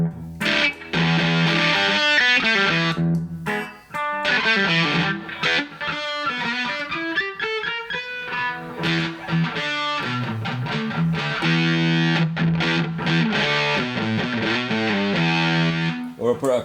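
Electric guitar through a Brelliott Deluxe TODP pedal set to heavy distortion plays chords and riffs, thick and saturated, ringing out almost continuously with brief pauses between phrases.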